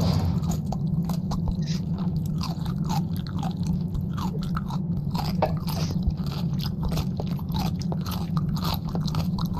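A video game character munches and chews food in the horror game Laundry Killer, a steady run of wet crunching bites and chewing sounds over a low droning background.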